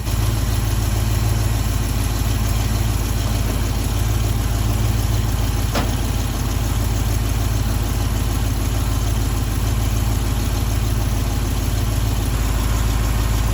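A truck engine idles steadily while warming up, a loud, even, unbroken rumble close by, with one brief tick partway through.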